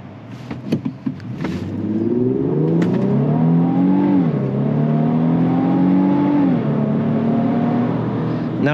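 2025 Infiniti QX80 Autograph 4WD accelerating in sport mode, heard from inside the cabin: a smooth engine note climbing through gear changes over several seconds, rising and dropping in pitch at each shift, moderately loud and steady.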